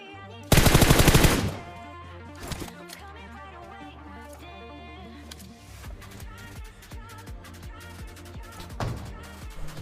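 PUBG Mobile match with AWM sniper rifle and M4 gunfire: a loud, dense burst of shots early on, then scattered sharp single cracks over game music and effects, with a final shot near the end.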